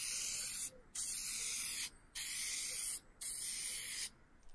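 Lacquer toner sprayed onto a 200-year-old wooden chair under restoration: three long, steady hissing bursts from a spray gun, each separated by a short pause, fairly close and moderately loud.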